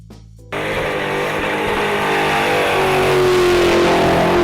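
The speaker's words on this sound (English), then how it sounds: "The Dodge Challenger SRT Hellcat is loud." A Dodge Challenger SRT Hellcat V8 engine bursts into a loud, sustained rev after a brief quiet moment, holding a steady roar that climbs slightly in pitch toward the end, with no talk over it.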